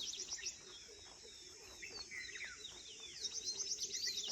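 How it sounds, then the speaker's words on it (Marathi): Birds chirp and call in a forest beside a road at night with the truck switched off, several tweets and trills near and far over a quiet background, with faint insect hum. "पक्ष्यांच्या आवाजांचा तुम्ही आनंद घेऊ शकता"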